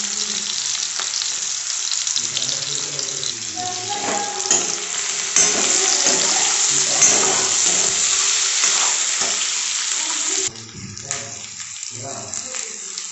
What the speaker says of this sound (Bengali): ভালো করে পেঁয়াজটা ভেজে নিই। এরপর দিয়ে দিচ্ছি আদা কুচি আর রসুন কুচি।